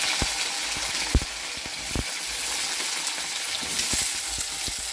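Potatoes, cauliflower and green chilies frying in hot oil, a constant close crackling sizzle dotted with sharp pops and a few spatula taps.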